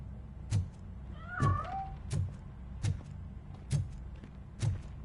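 A cat in a video game gives a series of short meows and sharp thumps at a steady pace, about six in all, over a low background rumble.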